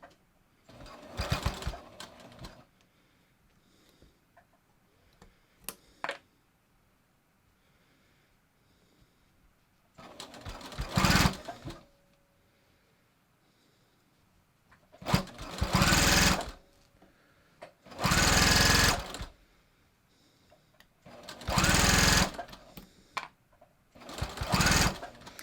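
A sewing machine stitches through three layers of a fleece hat in several loud, steady runs of a few seconds each, separated by quiet pauses with faint handling noise.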